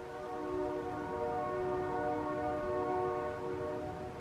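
Train passing outdoors on a freezing, windy day, a steady rumble with a sustained tonal horn-like drone held throughout, fairly loud and with no talk.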